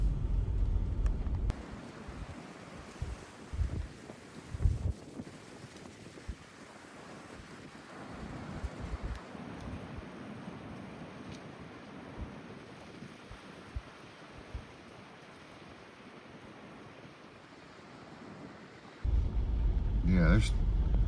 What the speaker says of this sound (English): there's still some areas down here that's real windy